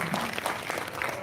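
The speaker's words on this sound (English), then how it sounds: "A huge round of applause for each one of them and all of you for being here." An audience at a book release function in Tagore Hall breaks into applause, a brief, dense burst of many hands clapping at once.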